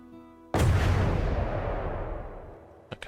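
A cannon shot in From the Depths strikes test armour with a sudden loud boom that rolls off into a long fading rumble, followed by a couple of small sharp pops near the end.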